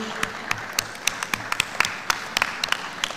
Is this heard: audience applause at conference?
yes